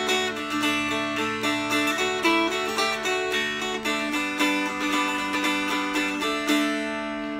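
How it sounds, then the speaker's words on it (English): Mountain dulcimer strummed across all strings in steady rhythmic chords, the individually picked melody notes buried under the ringing drone strings, heard alone at moderate volume. "You can't hear the individual notes being picked because three strings getting the get up and go are getting buried in the mix."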